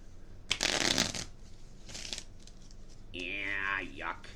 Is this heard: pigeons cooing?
no